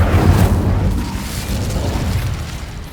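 An Incendio fire spell cast in Hogwarts Legacy lets out a loud, deep whooshing boom at the start. A rumbling burst of flame follows and slowly fades, with no voices over it.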